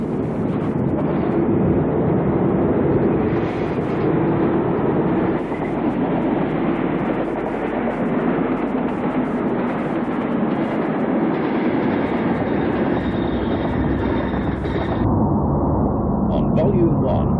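Class 31 diesel locomotive number 31117 rumbling steadily past for the whole stretch, a continuous close roar of engine and rolling wheels with faint clatter, easing slightly near the end.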